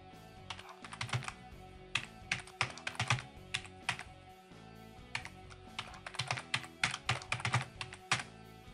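Quick bursts of clicky keystrokes on a computer keyboard, typed in short clustered runs with brief pauses between them, close and clear with no talking.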